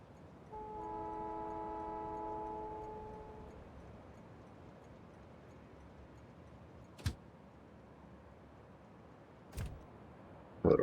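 A train in the factory-building game Factorio with the Krastorio mod sounds a horn, a sustained harmonic tone lasting a few seconds, followed by quieter rumbling and a couple of sharp clanks later on.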